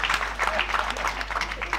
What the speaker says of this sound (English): Please give them a round of applause for the wonderful response.